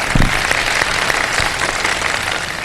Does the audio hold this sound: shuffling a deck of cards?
no